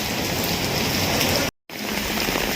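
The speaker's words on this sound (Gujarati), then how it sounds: "આ ગાર્ડન ફૂલ હેવી રેન ચાલુ છે" Heavy monsoon rain pours steadily onto the garden of Trimandir Adalaj in Gandhinagar, a dense, even hiss of drops that cuts out for a brief instant midway before resuming.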